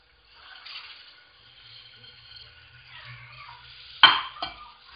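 Rice stirred in a hot pan with chicken, giving a soft, low sizzle with a light scraping stir, then a sharp clatter of a utensil near the end.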